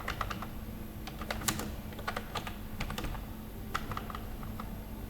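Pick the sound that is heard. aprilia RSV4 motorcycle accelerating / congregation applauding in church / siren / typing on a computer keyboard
typing on a computer keyboard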